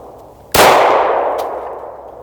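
A single loud metallic clang rings out as a round from an EAA Girsan Witness 2311 pistol strikes a steel target, the report and ring decaying slowly over about a second and a half.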